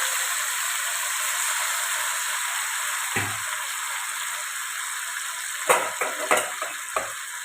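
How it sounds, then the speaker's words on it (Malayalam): Snakehead fish frying in hot oil for pickle, a constant hiss and sizzle with a few sharp clinks and scrapes of a utensil against the pan toward the end. "നമുക്ക് കുറേശ്ശെ മീൻ അതിനകത്ത് ഇട്ടിട്ട് നല്ല വറുത്തെടുക്കാം."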